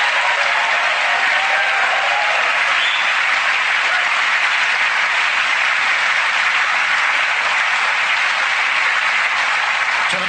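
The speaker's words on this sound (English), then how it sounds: "give Stacey a huge round of applause as she joins you on stage" Sustained, dense audience applause at a magic show as a volunteer comes up on stage, a steady loud clapping wash lasting throughout with no talk.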